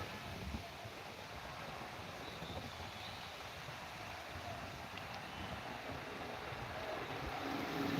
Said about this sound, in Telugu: అప్పు మామూలుగా ఇట్లా గాలి అయితే